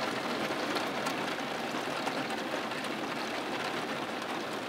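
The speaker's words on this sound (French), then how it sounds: "La pluie s'accentue. Oh là là, c'est un sacré déluge déjà." Heavy downpour during a single-cell morning thunderstorm in Essonne, France, a dense, loud, unbroken roar of rain on surfaces filling the whole stretch, with no thunder or voices standing out.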